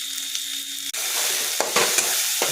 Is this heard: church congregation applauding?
no